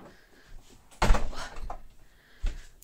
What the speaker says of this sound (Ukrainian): Це ж закрив двері